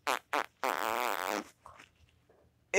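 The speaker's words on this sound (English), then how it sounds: "Alright, now I'm going to fart on you." Several short sputtering bursts followed by a longer rippling, buzzy fart in a cartoon setting, loud and close, then a brief faint noise and a sharp sound at the very end.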